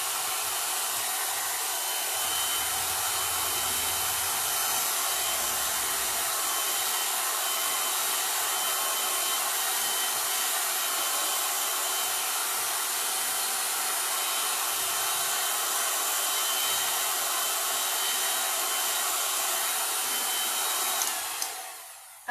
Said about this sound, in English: turn on the hairdryer again